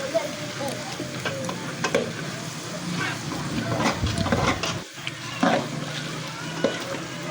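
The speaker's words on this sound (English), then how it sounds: "I've added my onions. Now I add my okra." Onions and okra frying in a pot for a Nigerian soup, with a continuous sizzle and repeated stirring scrapes and knocks against the pot, fairly close and moderately loud.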